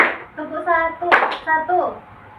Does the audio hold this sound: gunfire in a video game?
no